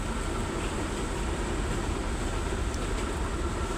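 A passenger train bound for Dhaka, Bangladesh, on a rainy day, heard from inside the carriage: a steady, loud rumble and rattle of wheels on track without a break.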